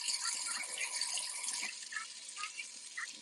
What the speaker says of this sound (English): I do wash her hair on warm water